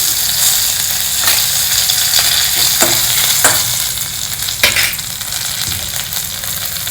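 Jeera, chana dal, hing and curry leaves frying in hot oil for a South Indian tempering, giving a steady close sizzle and crackle with a few sharper pops, no voices.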